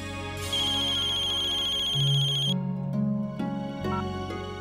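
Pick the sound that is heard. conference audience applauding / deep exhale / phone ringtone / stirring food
phone ringtone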